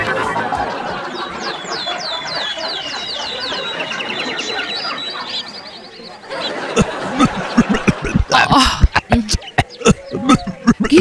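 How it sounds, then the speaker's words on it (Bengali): Cartoon patients in a sick ward cough and sneeze in a loud, close cluster of sharp bursts, first under squeaky bird-like chirps and then in quick overlapping fits near the end. "কি হাঁচি কাশির আওয়াজ আসছে সেবালয় থেকে।"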